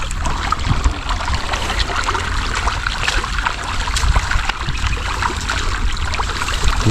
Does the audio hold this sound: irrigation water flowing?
yes